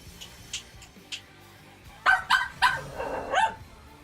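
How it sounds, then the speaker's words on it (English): Several sharp dog barks arrive in a quick cluster, loud and fairly close, after a quieter stretch with a couple of fainter yips; no one speaks over them. "let me grab my dog"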